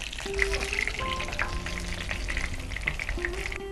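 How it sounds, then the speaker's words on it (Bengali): Pointed gourd (potol) fries in a pan, giving a dense, continuous sizzle and crackle close up. Faint tonal sounds sit in the background, and no one speaks. "অলরেডি আমরা দিয়ে দিয়েছি পটল ভাজার জন্য, এখন এর হওয়ার অপেক্ষায় আছে।"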